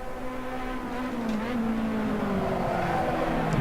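Race car running flat out through a fast kink in a simSS 3 Series sim racing game at Vallelunga, a steady loud engine drone at high revs holding throughout with no talk.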